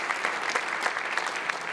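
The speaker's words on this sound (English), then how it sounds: "Can we have a big round of applause, everyone" Steady applause from a crowd, a dense wash of clapping that holds at an even level throughout.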